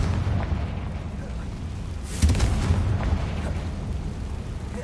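Confringo fire-blast spell cast in Hogwarts Legacy, a deep booming explosion bursting out about midway, its rumble lingering over steady low background noise.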